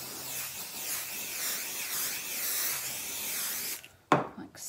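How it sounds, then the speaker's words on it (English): Adhesive spray hisses in a long continuous burst onto foam pieces for a sewn fabric shopping bag, fairly close, then stops and is followed by a sharp handling knock and rustle. "So I'll just spray my foam."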